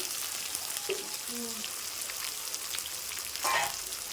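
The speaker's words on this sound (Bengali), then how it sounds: "দেখো পেঁয়াজটা পুরো ভেজে নিয়েছি টমেটোটা ভাজা হয়ে আছে" Onion and tomato frying in a pan for a red spicy chicken curry, a steady loud close sizzle with a brief stir or clatter near the end and faint voice moments under it.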